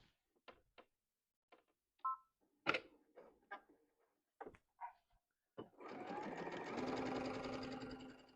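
A sewing machine stitches through bulky layers of apron fabric and bands. Scattered clicks and taps come first, then the motor hums in a continuous close whir for the last few seconds.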